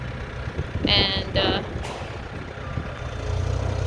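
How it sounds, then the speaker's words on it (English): A telehandler unloading wood from the back of a truck idles and rumbles steadily while two short bursts of high reversing beeps sound nearby, with a voice speaking briefly. "we're using the telehandler here"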